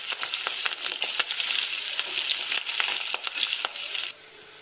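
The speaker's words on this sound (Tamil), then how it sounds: "வெங்காயம் எடுத்து வச்சுருக்க கருவேப்பிலை போட்டு நல்லா வதக்கிட்டு போகிறோங்க" Chopped onions and curry leaves sauté in a hot pan for egg bhurji, a loud, continuous sizzle with scraping stirs, which cuts off abruptly near the end.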